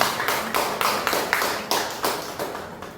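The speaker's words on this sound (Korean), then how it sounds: "우리 박수로 한번 쳐드리겠습니다" A church congregation claps together during a Sunday service, a fairly quick, even run of distinct hand claps at moderate distance with a slightly roomy ring, no voices over it.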